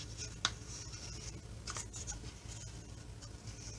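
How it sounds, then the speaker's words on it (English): Origami paper being folded into a Yoda figure: soft, close rustles and creases with a sharp crinkle near the start and a few light rubs after, all faint and without talk. "we're going to fold it in, and we're going to fold this one down"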